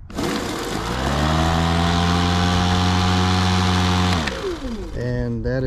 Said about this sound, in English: Alright, now it's time to start the mower.